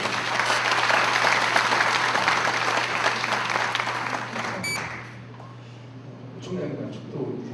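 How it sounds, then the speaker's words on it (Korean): A church assembly at a national pastors' seminar opening service applauds to welcome a guest, with dense clapping for about five seconds that fades out as voices follow. "박수로 우리 환영하는 해주시죠."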